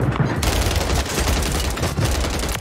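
Heavy, continuous gunfire from the Call of Duty video game, a loud fusillade of overlapping shots filling the whole moment.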